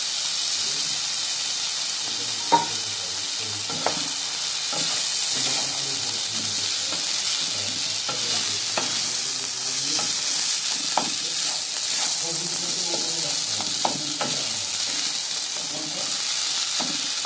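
Pre-fried, washed moong dal stirred in a hot pan for a vegetarian daliya khichuri, a steady broad sizzle with scattered scraping clicks of the spoon throughout, close and continuous with no talking.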